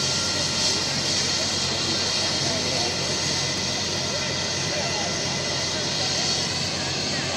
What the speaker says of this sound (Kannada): ನೋಡಿ ಗಾಯ್ಸ್, ಹೆಲಿಕಾಪ್ಟರ್.